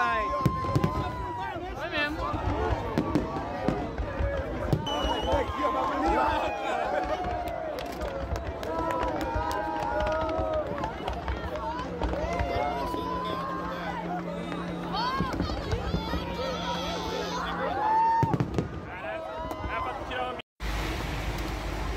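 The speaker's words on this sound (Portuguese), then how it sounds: "vocês podem ver aqui no vídeo da queima de fogos" New Year fireworks display bursting outdoors, a dense continuous barrage of crackles, whistles and pops at moderate distance, with people talking and calling out over the show throughout.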